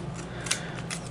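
Scissors trimming paper for an autumn tealight card project, a few quiet close snips over about a second.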